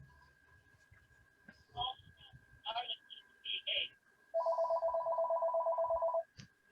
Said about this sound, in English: Sorry, it's my phone in the background.